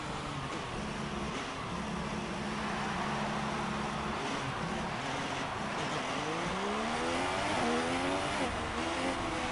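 An F1 car in a racing video game at the Mexican Grand Prix screams past with a rising then falling engine whine, close and loud, over the steady drone of another car's engine, with no talking.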